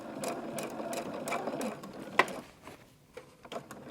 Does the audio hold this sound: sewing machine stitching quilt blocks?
yes